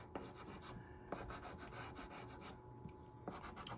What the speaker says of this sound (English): I'm going to take and I'm going to rub this pastel around